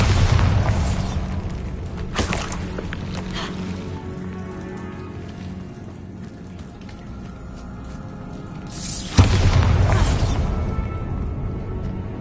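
The Bombarda spell goes off in the video game Hogwarts Legacy with two loud, booming blasts several seconds apart. Each blast is followed by a rumbling, crackling tail that slowly fades.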